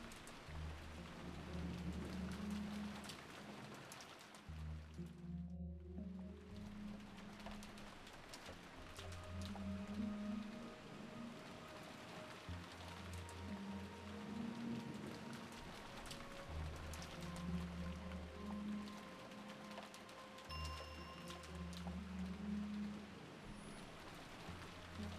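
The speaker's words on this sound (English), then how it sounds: "There would be nothing for us to do but pass the time listening to the sound of the rain." Steady rain pattering on surfaces in the Umineko visual novel, a soft continuous wash with low drumming pulses and faint bird calls, no voices.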